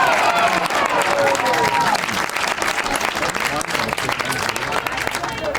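A home crowd at a 2015 AFL Sydney Round 10 Australian football match, Manly Warringah against East Coast Eagles, applauds and cheers a mark, loud sustained clapping and crowd roar filling the whole stretch with commentary faintly beneath.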